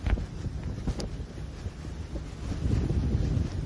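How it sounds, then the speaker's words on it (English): Wind gusts over the sea off Catalina Island aboard a boat, buffeting the microphone in a low, uneven rumble that swells toward the end, with no voices. "the wind picked up a little bit"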